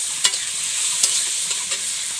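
Paneer cubes fry in hot oil with a constant bright sizzle, broken by a few soft stirring knocks against the pan.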